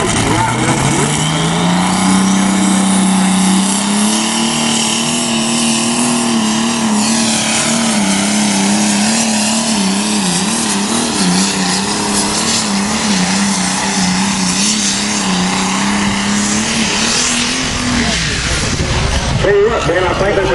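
Pulling tractors at a May 2014 tractor pull roar loudly and continuously down the track toward the sled, the engine pitch climbing and wavering as they strain, with commentators talking over the din.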